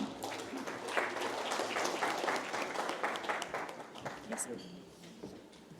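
An audience at a Construction Federation of India conference welcome address breaks into loud, sustained clapping that gradually thins out toward the end.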